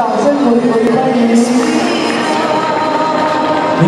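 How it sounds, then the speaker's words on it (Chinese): Crowd at an outdoor plaza wedding gown fashion show cheering and clapping loudly as a model is welcomed, a busy, continuous roar of voices close around. "掌声回归欢迎民国赖廷根"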